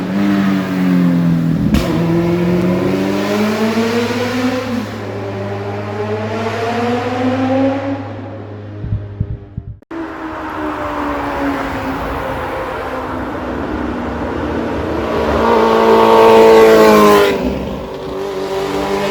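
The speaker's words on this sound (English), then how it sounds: "Let you know what the mufflers sound like." Suzuki Hayabusa motorcycle fitted with aftermarket mufflers revs hard and close, two long sweeping throttle runs climbing and falling in pitch, with a brief drop between them and no talking.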